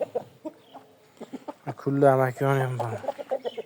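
A rooster on a Uzbek farm clucking and calling in a few short bursts followed by one longer drawn-out cry, close by, with someone talking around it.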